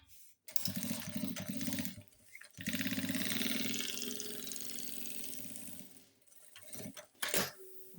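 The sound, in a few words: sewing machine stitching a seam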